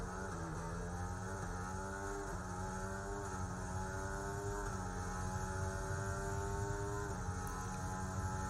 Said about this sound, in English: what the hell is wrong with those engine sounds?